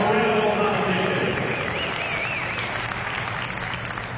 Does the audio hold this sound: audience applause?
yes